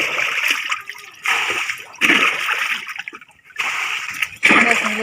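Rainwater is scooped and tossed out of a flooded boat in a mangrove area, bursts of splashing and sloshing repeating roughly every second with short quieter gaps between throws.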